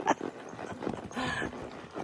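Hooves of a big horse stepping over a log on a forested Wyoming trail, a few soft, close thuds and scuffs with faint rustling, fairly quiet overall.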